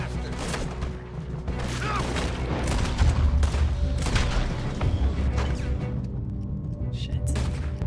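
Gunfire in Red Dead Redemption 2, a dense ongoing barrage of booming shots and crashes with voices shouting over it.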